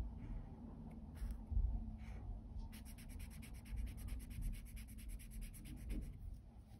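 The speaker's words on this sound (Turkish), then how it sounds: "Turuncu kalemimizle tamamlayalım." Soft scratchy rubbing of an orange colored pencil coloring a shape on paper, steady and close, with brief stroke bursts and quiet background.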